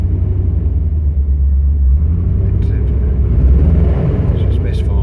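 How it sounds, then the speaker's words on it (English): A Range Rover Classic engine running on petrol, a loud, steady low rumble close by with a slight rise in revs toward the middle, misfiring unevenly. "I'll rev her now."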